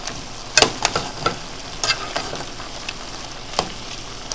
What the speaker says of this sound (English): So that's my ground beef and my ground sausages. So now we're just going to brown this.